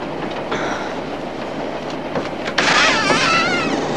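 A train at a station in the film Continental Divide: a continuous rumbling, clattering roar of railcars that turns brighter and harsher near the end, with no talk.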